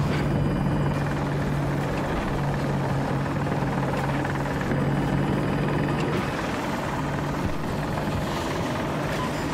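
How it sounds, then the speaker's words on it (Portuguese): An enemy helicopter in the video game Battlefield 2042 drones with a continuous rotor thrum and engine roar, loud and steady throughout, without speech. "Helicóptero inimigo!"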